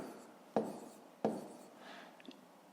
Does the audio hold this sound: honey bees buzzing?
no